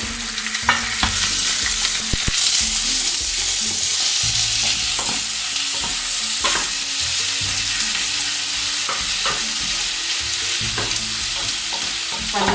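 Onion sizzles steadily in a pan over high heat while being browned for a Moroccan dish, with a continuous close hiss and occasional stirring scrapes and clicks throughout.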